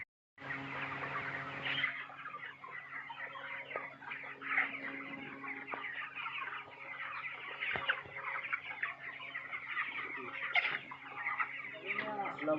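Broiler chickens, 27 days old, cluck and chatter steadily in a crowded poultry farm shed, with a continuous low mechanical hum underneath and occasional louder calls rising from the flock.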